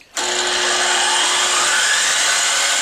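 A miter saw powered through a WZRELB 3000W pure sine wave inverter snaps on and spins up into a steady, high whirring whine that holds loud and even, then stops abruptly.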